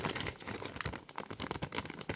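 A plastic bag crinkles and rustles continuously up close as a toy doll is slipped inside, with dense irregular crackling bursts throughout and no voices.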